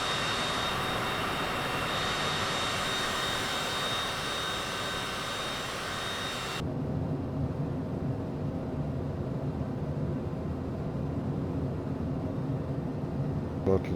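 Cessna Citation CJ4 jet engines in Microsoft Flight Simulator 2024, a loud steady roar that drops abruptly halfway to a quieter, lower idle hum.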